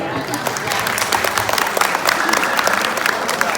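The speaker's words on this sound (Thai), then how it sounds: "ในการนี้เนี่ยผมขอ รบกวนให้เพื่อนๆช่วยปรบมือให้เกียรติกับอดีตประธานลูกของเราครับ" Audience at a school alumni reunion banquet applauds the former class president, a dense, even wash of clapping throughout with scattered louder claps near the front.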